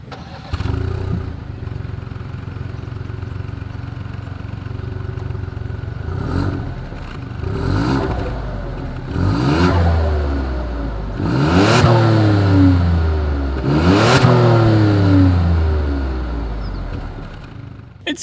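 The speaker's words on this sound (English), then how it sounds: "here is that 2020 Ford Escape exhaust clip" A 2020 Ford Escape SUV idles, then revs repeatedly in rising and falling bursts, the exhaust growling louder with each throttle blip, close and alone.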